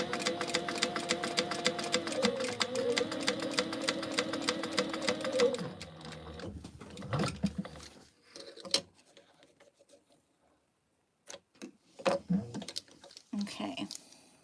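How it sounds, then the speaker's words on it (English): A sewing machine stay stitches a cargo belt bag in a steady, fairly quiet run that slows and stops midway, followed by scattered handling clicks and rustles. "I have to stay stitch this in place."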